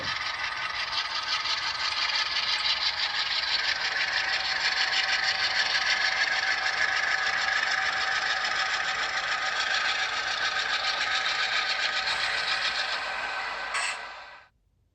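HO scale model locomotives, 4,000-horsepower road units, run on a home layout with a steady, close mechanical whir and light rattling clatter that holds evenly for about fourteen seconds before cutting off.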